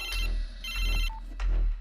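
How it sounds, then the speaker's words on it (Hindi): A mobile phone ringtone chirps in three repeated electronic bursts with short gaps between them, loud and close, with no voices over it. "अपना फोन उठा।"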